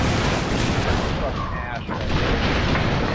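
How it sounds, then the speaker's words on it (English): Dense, continuous rumbling blasts and gunfire from the side-scrolling action video game Broforce fill the whole stretch at a loud, steady level, with voices mixed into the chaotic game noise. "one of you killed me with your explosions"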